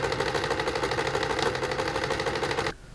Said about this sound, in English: So we're gonna just sew all of this.